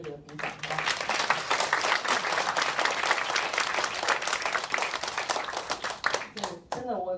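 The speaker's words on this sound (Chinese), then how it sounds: "我们再给他们一个热烈的鼓掌吧。" An audience at a Q&A session for a virtual-world workshop bursts into sustained, dense applause that rises quickly and holds steady for several seconds before fading out.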